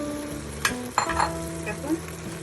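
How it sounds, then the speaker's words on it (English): Homemade tomato sauce goes into a pan of sautéing vegetables for an Italian dish, with a soft sizzle, a couple of sharp spoon clinks against the pan and brief scraping stirs. "Now we're adding the homemade tomato sauce."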